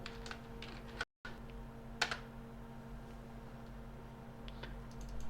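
Typing a folder name on a computer keyboard, a few quiet scattered key clicks over a low steady hum, with a brief dropout near the start.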